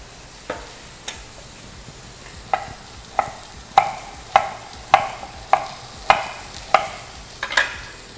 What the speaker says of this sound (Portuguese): Eu vou colocar ali junto então para refogar